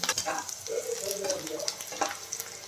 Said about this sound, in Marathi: हिरवी मिरची बारीक कट करून घेतलेली आहे, ती पण टाकून घेतो। तिला पण 1 मिनिटभर आपल्याला छान परतून घ्यायचं आहे